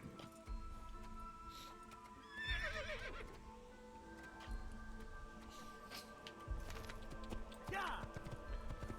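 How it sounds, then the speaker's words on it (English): Horse galloping through a crowd in the Assassin's Creed video game: rhythmic clip-clop hoofbeats with two loud neighs over a busy game-world background, a voice faintly present. "The horse just run through all the people and knock them all over."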